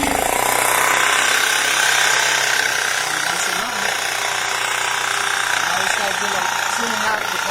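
An Onan 4000 Microquiet generator engine runs steadily and loud throughout, a constant mechanical drone with a rough, rattling edge and no pauses.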